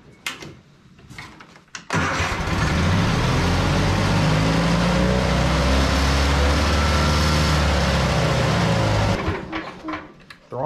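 Engine of an Argo amphibious vehicle with its throttle stuck on roars at high, steady revs for about seven seconds, loud and close, before cutting back to a low idle.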